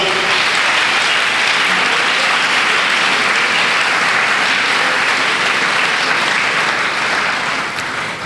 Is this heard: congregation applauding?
yes